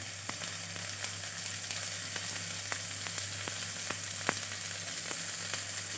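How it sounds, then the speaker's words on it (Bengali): Crushed garlic and chopped onion fry in hot oil for chicken stew, giving a steady, close sizzle with small scattered pops and no talking. "রসুনটাকে হালকা ভেজে নেব।"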